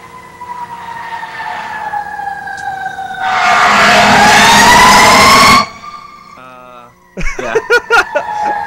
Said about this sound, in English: Are those sirens at your house?